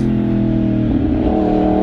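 A road vehicle accelerates in second gear through an intersection, its engine a loud, steady, close drone with a slight rise in pitch and no talk.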